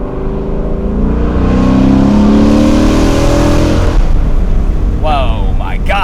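A Ford Mustang GT 5.0 accelerates hard from inside the cabin, its loud exhaust roaring and building steadily before easing off, with a short burst of speech near the end.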